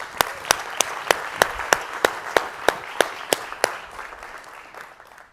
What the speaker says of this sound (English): Give Sahia a round of applause